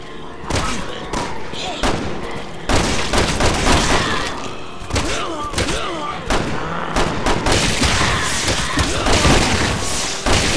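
Rapid in-game gunfire from enemies in Resident Evil 6, dense bursts of shots and thuds continuing throughout at loud level, mixed with game effects and some talking.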